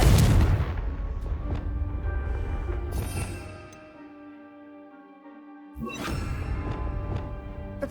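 A Confringo blasting spell in Hogwarts Legacy erupts with a loud, close boom at the opening, its rumble trailing off before a second burst of crackling impact noise a few seconds later.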